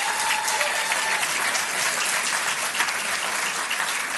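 A large audience at a city mayor's state of the city address breaks into loud, continuous applause, a dense unbroken wash of clapping throughout.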